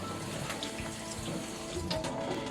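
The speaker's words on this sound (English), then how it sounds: "I just swill it out under the tap" Tap water runs steadily into a sink while dirty fossil-polishing water is swilled out, a continuous close splashing hiss with a few brief louder gurgles.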